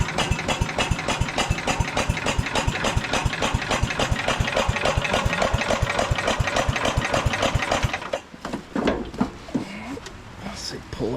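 A 1968 Wheel Horse Commando 8 garden tractor's small engine runs steadily with fast, even firing pulses for about eight seconds, then cuts out, leaving uneven rattles and handling noises.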